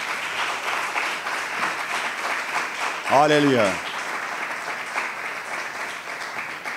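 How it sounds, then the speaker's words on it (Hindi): A church congregation applauds at a sermon, a dense wash of clapping running throughout, with a voice briefly exclaiming over it partway through. "अगर आप खुश है तो जोरदार तालियां खुदा के जलाल के लिए।"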